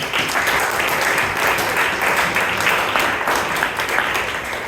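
A Toastmasters club audience in Bangalore applauds a member, with thick, continuous clapping from a roomful of people, loud and close, without a break.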